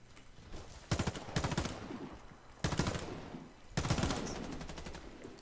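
Automatic gunfire in the online shooter Warface, several loud bursts of rapid shots separated by short pauses, with echoing tails and no talk over them.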